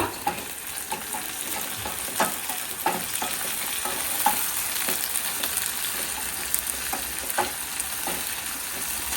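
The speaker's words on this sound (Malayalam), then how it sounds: "ചെറിയുള്ളി നന്നായിട്ട് പതിങ്ങിയ ശേഷം പച്ചമുളക് ഇടുക" Shallots and green chillies fry in a pan with a steady, close sizzle, broken by repeated scraping taps of a spoon stirring them.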